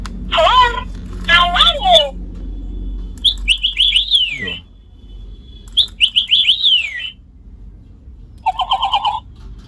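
Electronic bird chirps and warbling tweets from a battery-powered toy parrot play in several short bursts with pauses between, loud and close.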